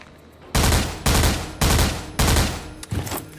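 Heavy gunfire from a shooter video game, Foreign Legion: Buckets of Blood, with four loud, close bursts of shots separated by short gaps, then a lighter fifth burst.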